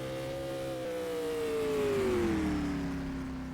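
Race car at speed on a Oswego Speedway time trial run, driven as a Docker Titanium roadster: a loud, steady engine drone whose pitch sags as it passes close, alone without talk.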